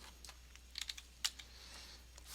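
Numbers being keyed in on a computer keyboard: a faint, quiet run of light clicking keystrokes at an irregular pace, with a couple of slightly sharper taps, heard alone.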